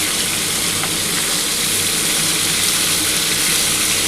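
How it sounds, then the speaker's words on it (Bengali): Rohu fish fries lightly in a pan, giving a dense, even sizzle that holds steady and close throughout with no talking. "খুব বেশি ভাজার দরকার নেই, একটু হালকা করে ভেজে আমি মাছটা তুলে নেব"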